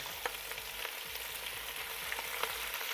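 Meat searing for goulash in a Petromax FT9 Dutch oven makes a soft, continuous crackling sizzle at moderate distance, with faint scraping stirs and small pops scattered throughout.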